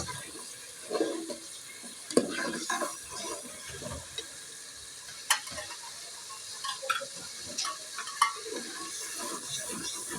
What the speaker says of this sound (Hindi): हम 5 मिनट तक लहसुन को भूनेंगे।